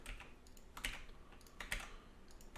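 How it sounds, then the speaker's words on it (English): Computer keyboard keys pressed for Ctrl C and Ctrl V shortcuts, a few close, crisp clicks in quick succession, with a couple of sharper taps standing out. "I'm doing this with Ctrl C and Ctrl V."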